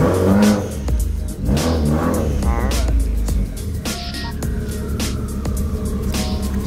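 A widebody Subaru WRX's engine is revved, a loud, steady mid-range rumble swelling and holding with brief louder pushes throughout.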